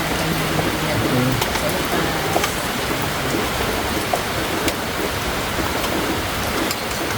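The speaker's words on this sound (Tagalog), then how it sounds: "Umuulan. Umuulan eh." Steady rain falls and patters on surfaces outdoors as a dense, even wash of noise that holds throughout, with a few sharper drop hits and faint voices in the background.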